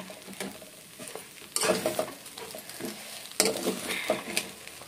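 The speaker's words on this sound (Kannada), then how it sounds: "ನೋಡಿ ಫ್ರೆಂಡ್ಸ್, ನಾನಿಲ್ಲಿ ಉಪ್ಪಿಟ್ಟು ಮಾಡ್ತಾಯಿದ್ದೀನಿ." Spoon scraping and stirring upma made from bansi rava with onion and tomato in a pan, with intermittent metallic scrapes and soft sizzling in bursts, close by and without talk.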